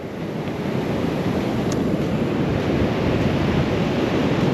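Ocean waves wash continuously at the sea in Gonzaga, Cagayan, a steady broad surf roar with some wind across the microphone, no voices present.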